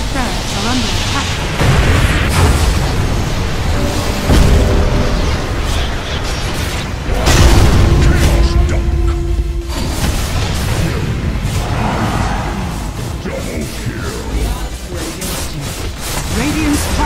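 Dense, loud Dota 2 battle noise as Radiant's top barracks come under attack: continuous explosions, booms and impacts layered with game effects and an announcer voice, sustained throughout.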